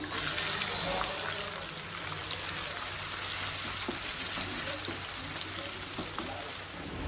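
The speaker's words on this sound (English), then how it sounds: "So now the onions are fried." Onions fry in hot oil with a steady, dense hiss and faint crackles, close and even throughout with no talking.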